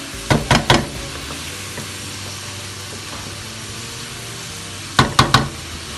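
Eggs dropped into hot oil at the side of a pan while making Chinese fried rice: a steady sizzle throughout, with short bursts of clatter near the start and end, close and loud, no talking.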